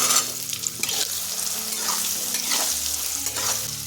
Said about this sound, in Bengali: এখন আলুগুলো একটু লাল করে ভেজে নেব